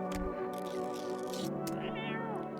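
A cat in the video game No, I'm Not A Human lets out a long, drawn-out meow that rises and bends in pitch, close and clear over faint background ambience.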